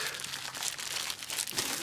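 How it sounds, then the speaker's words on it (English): Plastic bag around a surplus-gear package being handled, a steady close crinkling and rustling with a few sharper crackles throughout. "Stuff comes in a plastic bag"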